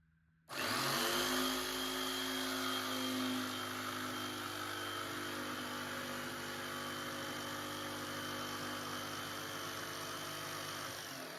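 A jigsaw starts abruptly and runs as a loud, steady, high motor whine while cutting a door threshold for laminate flooring, with a continuous drone and slight pitch drop as the blade bites, no talking.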